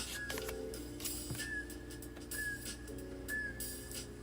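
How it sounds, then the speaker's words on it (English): Short whistled notes recur over a quiet musical backing, each a brief clear tone, spaced about a second apart. "I guess they're whistling."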